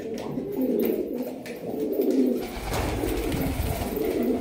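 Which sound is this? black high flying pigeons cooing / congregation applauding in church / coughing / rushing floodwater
black high flying pigeons cooing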